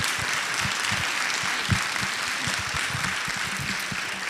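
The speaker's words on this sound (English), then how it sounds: "So I'd actually like to give her a round of applause and say thank you for all of her hard work." Audience members at a school board candidate forum applaud, a sustained, even wash of clapping with no speech that continues for several seconds.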